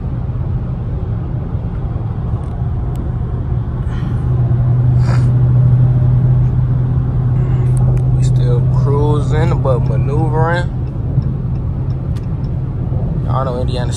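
A brand-new 2023 Dodge Charger Scat Pack cruises along a road near Indianapolis, giving off a steady low rumble of engine and road noise while people talk inside the car.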